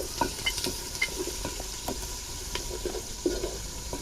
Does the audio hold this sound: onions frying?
yes